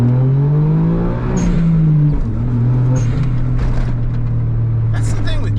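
A small Japanese kei car's engine droning and shifting pitch as it drives along a road, loud and close, with people talking over the engine noise.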